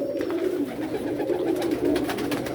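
Pigeons cooing in a breeding loft during very hot weather, continuous low throaty coos from several nearby birds overlapping without a break.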